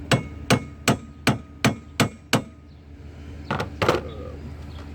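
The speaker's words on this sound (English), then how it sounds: "With a ball peen hammer, which is highly not recommended" A ball peen hammer taps lightly on a car strut during a 2009 GMC Acadia strut replacement: seven sharp, evenly spaced metallic knocks close up, then a pause and a couple of softer clustered taps.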